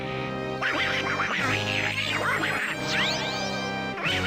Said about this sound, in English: this guy sounds exactly like Donald Duck